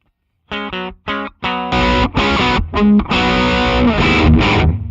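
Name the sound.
clean electric guitar tone through Sir Riot pedal circuit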